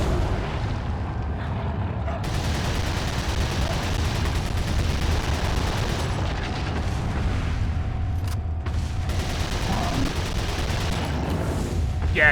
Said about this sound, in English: I'm gonna just shoot his tentacle